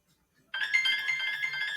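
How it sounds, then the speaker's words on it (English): A phone alarm rings out, a steady electronic tone with bright repeating harmonics that starts abruptly and holds loud and continuous with no talk over it. "Sorry, that was my alarm."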